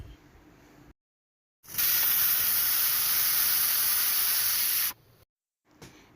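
Steam blasts out of a pressure cooker after cooking dal, a loud, harsh, steady hiss lasting about three seconds, bracketed by brief silences and quieter kitchen background, with no speech.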